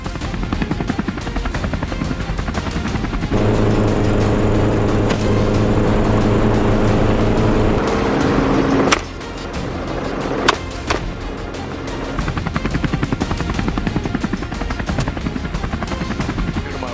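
A helicopter roars steadily close by during an aerial wild hog hunt in Arkansas, its rotor throbbing and engine droning loudly throughout, with a deeper tonal hum fading in and out partway through.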